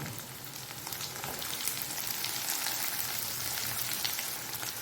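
Chopped hill garlic fries in hot oil for a fish karuvadu kulambu, giving a steady, close, moderately quiet sizzle with crackling spatter and no talk.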